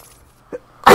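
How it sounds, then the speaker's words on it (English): A single loud, close sneeze from a character in Batman: Arkham Asylum. A faint quick intake comes first, then a sharp burst at the very end of an otherwise quiet moment. "Sneezing."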